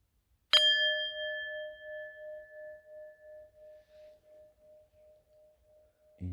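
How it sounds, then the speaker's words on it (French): A single meditation bell is struck once, close and clear, and its pure tone rings on with a slow pulsing decay for several seconds in an otherwise quiet room. "quand j'entendrai la cloche."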